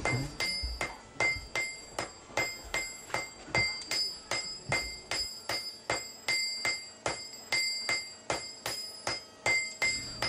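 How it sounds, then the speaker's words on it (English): Steady, regular metallic hammer blows ring out one after another, bright clanging strikes on metal with a quick rhythm, close by and fairly loud. "Walking around the village, I hear the noises coming from the many forges here."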